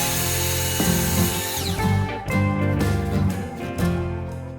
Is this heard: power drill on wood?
yes